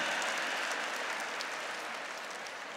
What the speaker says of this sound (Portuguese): Aplauda o seu irmão aí do seu lado, é gente boa.